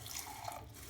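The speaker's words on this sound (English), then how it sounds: "A little bit of water." Hot tap water runs into a cup holding a scoop of BSN creatine powder, a brief soft pouring hiss with no talk.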